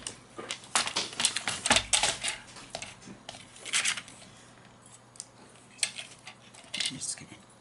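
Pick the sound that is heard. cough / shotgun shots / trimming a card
trimming a card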